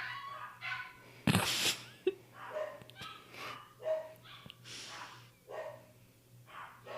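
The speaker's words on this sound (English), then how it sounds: "Can you hear that barking?" A dog barks repeatedly in short bursts, fairly close, with a louder sharp yelp early on and a faint steady hum underneath.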